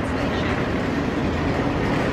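Steady ambient rumble fills the cold platform at Luton Parkway train station, a broad, continuous wash of distant rail and crowd noise.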